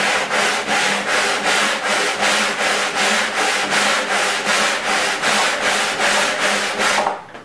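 Sandpaper rubs rhythmically across a flat face of a wooden disc, steady back-and-forth strokes roughly three per second, loud and close, stopping abruptly near the end.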